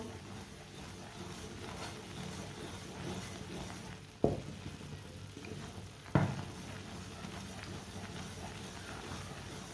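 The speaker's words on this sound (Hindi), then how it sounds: "इसी तरह से चम्मच चलाते हुए 2-3 मिनट के लिए पका लेना गुड़ को।" A spoon stirs jaggery as it cooks in a pan, making a quiet, continuous sizzle with two distinct clanks of the spoon against the pan a couple of seconds apart.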